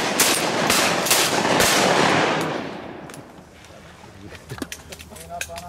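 Shotgun shots during a duck hunt, a quick volley of loud cracks outdoors fading into quieter marsh ambience, with people talking between and after the shots.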